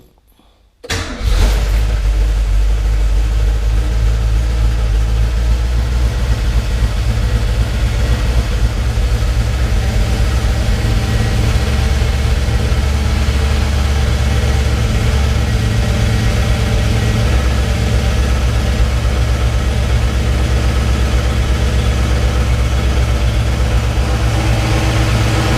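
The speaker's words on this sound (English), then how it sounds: "It's definitely got a knock in the engine." A Ford Fairmont XC GXL that has sat unused for a long time, with an engine knock. It cranks and starts, then idles in a steady, loud, low rumble that holds for about twenty-five seconds with no talk.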